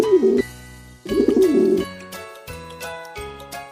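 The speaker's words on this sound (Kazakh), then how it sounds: "Көгершін." A pigeon coos in two near, rounded bursts of throaty rolling calls, separated by pauses in which faint chiming tones ring out.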